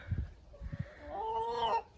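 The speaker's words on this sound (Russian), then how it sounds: "Еще же есть шелковые курочки." Silkie chickens cluck in a hen house, with a few low soft clucks followed by a longer rising, wavering call, close and fairly quiet, with no talk over them.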